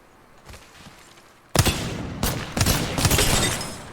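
Gunfire in the shooter game Valorant, several loud close bursts in quick succession after a quieter opening, with heavy rumbling blasts that overlap and linger.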